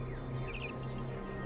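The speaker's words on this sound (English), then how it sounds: "Do you hear the birds chirping outside the dome?" A few short bird chirps, faint and distant, sound over a low steady ambient hum in the game The Talos Principle 2.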